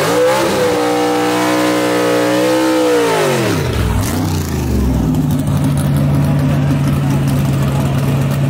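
At Gulfport Dragway, a gasser drag race car revs its engine loudly, rising to a high scream and then dropping before launching into a harsh, rumbling run close by, with a commentator's voice over it.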